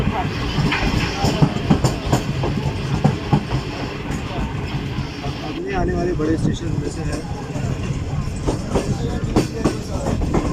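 The Karakoram Express rolls along with a steady clickety-clack of rail cars and a constant rumble, while someone talks over the noise throughout.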